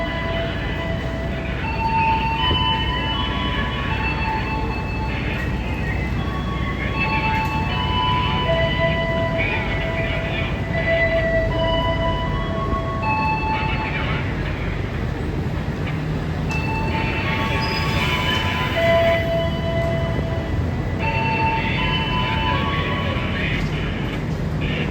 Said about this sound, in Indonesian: Kereta api Sancaka berangkat menuju ke arah Surabaya.